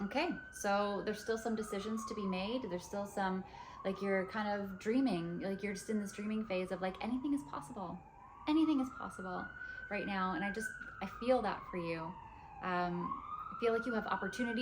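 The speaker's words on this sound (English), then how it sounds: "I apologize for the sirens." A wailing siren rises and falls repeatedly in the distance, heard through an open window, sweeping up and down beneath a person talking steadily up close.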